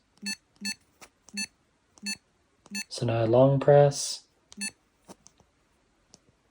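Short electronic beeps repeat at a steady pace from a small device, paused while someone speaks briefly, then resuming in a few quieter chirps.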